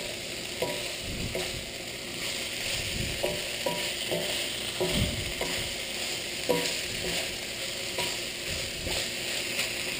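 Flaked milkfish (bangus) meat frying in a pan for rellenong bangus, a continuous sizzle with irregular scraping and clacks from stirring scattered throughout, fairly close and without voices.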